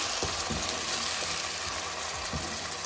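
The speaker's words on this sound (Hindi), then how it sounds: "अब हम डालेंगे टमाटो प्यूरी। अच्छे से मिक्स कर लेंगे।" Onion and ginger-garlic paste fry in a pan as tomato puree is stirred in, giving a continuous bright sizzle with a few soft scraping strokes of the spoon underneath.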